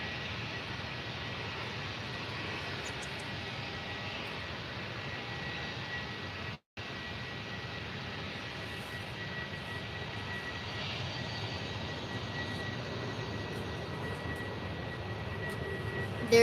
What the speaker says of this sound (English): so there's going to be a Jet 2 taking off.